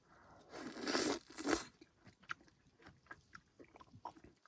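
Frozen ice cream bitten and chewed outdoors at minus twenty degrees, with a loud close crunching bite followed by quieter, irregular chewing crackles and no talk.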